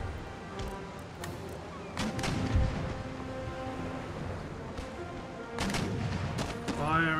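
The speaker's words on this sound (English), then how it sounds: "Yeah, you guys just pound with round shot." Repeated deep cannon booms from a warship broadside in Empire Total War, several heavy bursts spaced across the stretch over a rumbling battle bed, with a voice briefly talking among them.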